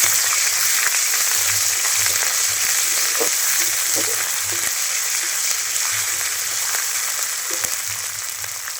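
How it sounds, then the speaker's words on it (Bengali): Chopped ginger and green chilli stirred and fried in a pan while making cauliflower samosa filling, giving a steady close sizzle with soft scrapes of stirring throughout and no talk. "এবার খুব ভালো করে আমি নেড়ে চেড়ে নেবো যাতে আদার কাঁচা গন্ধটা কেটে যায়"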